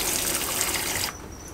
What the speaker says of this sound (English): To turn on the flow of water, move this switch laterally.